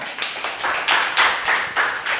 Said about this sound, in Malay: Okey, beri tepukan.